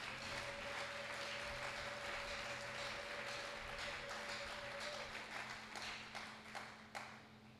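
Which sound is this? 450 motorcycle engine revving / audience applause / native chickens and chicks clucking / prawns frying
audience applause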